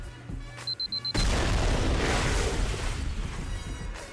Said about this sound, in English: Maybe I can do a little C4. There we go. Explosions.